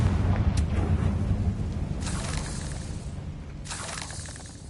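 Confringo spell blast in a Hogwarts video game, heard as a deep rumbling explosion under steady low noise, with two sharper crackling bursts following a couple of seconds apart.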